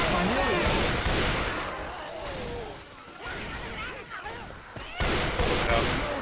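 Hip-fired gunfire in a video game, a loud, sustained rattle of rapid shots that eases briefly mid-way before another heavy burst, with speech and game sounds mixed in.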